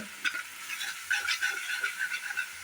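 Ginger sautéed in a pan for chicken roast gives a soft, steady sizzle with light scraping of stirring, close and moderately quiet, with no voices.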